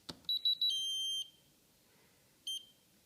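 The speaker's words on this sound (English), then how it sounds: "you need to start it with the flap switch down and you will hear 2 extra beeps" Three quick electronic beeps from a DX6i radio transmitter, then a longer steady tone, a pause, and one more short beep, crisp and close against a quiet background.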